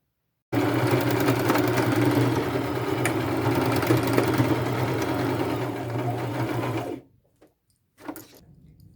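A sewing machine stitching along a purse strap runs in one steady, loud mechanical whir for several seconds, then stops abruptly, followed by a couple of brief faint clicks.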